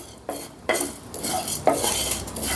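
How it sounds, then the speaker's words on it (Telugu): Coriander seeds and cumin being dry-roasted in a pan without oil, stirred with a utensil that scrapes and clinks against the metal in a few distinct strokes, close by and moderately loud, with no voices. "మనం వేసిన ఈ దినుసులన్నిటినీ ఆయిల్ వేయకుండా చక్కగా ఫ్రై చేసుకుందాం"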